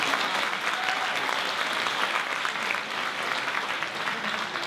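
An audience at a National Honor Society ceremony claps in a dense, even wash of applause that holds at steady volume throughout, with no talk over it.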